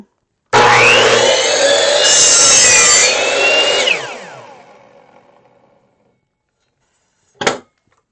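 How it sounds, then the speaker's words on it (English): A hand saw cuts through a piece of wood held against a fence and stopper, one long, loud, continuous rasping stroke that fades as the cut finishes, followed by a short sharp knock after a pause. "I am sawing with this hand."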